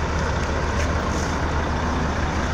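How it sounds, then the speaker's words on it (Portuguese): A truck idling close by at a roadside stop, a steady loud low rumble of diesel engine noise throughout, with no voices. "E é mais caminhão parando aí, ó."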